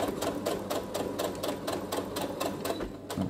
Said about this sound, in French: point avant, point arrière pour terminer